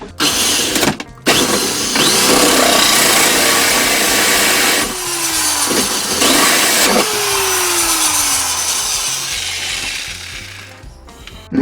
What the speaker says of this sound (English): Got to use my massively big drill because it's the only thing that will take these.